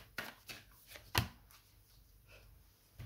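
Tarot cards are shuffled by hand in quick, soft riffling bursts, about half a dozen irregular shuffles over a few seconds, close and quiet with no talk.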